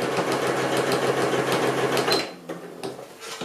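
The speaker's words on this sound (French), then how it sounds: "Et on va aller coudre de cette façon." Sewing machine stitching along the edge of a fabric coin purse: a steady, fast mechanical whirr with rapid needle ticks for about two seconds, then slowing and stopping with a few faint clicks.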